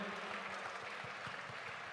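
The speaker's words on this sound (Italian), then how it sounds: "E l'applauso al nostro Tore" An audience at a live event in Ollolai applauds for Tore, a steady, soft wash of many hands clapping heard from a distance, even and continuous throughout.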